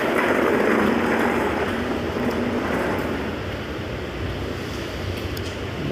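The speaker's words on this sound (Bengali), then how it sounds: "মালয়েশিয়াতে আজকে প্রচুর বৃষ্টি হইতেছে" Heavy afternoon rain pouring down in Malaysia as streets flood, a dense, loud, continuous roar of rushing water with no talking.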